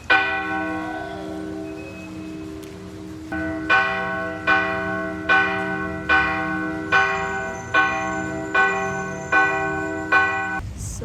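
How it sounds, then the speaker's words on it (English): Church bells ring out loudly in Mexico around five o'clock, with a sustained tone at first and then rhythmic, evenly spaced strikes that decay between hits. "The bells started ringing."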